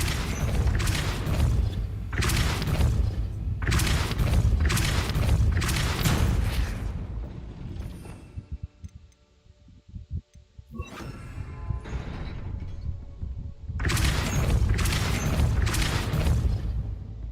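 Depulso spells cast in Hogwarts Legacy, heavy booming magical blasts in rapid bursts with a quiet creaking lull in between before more loud impacts.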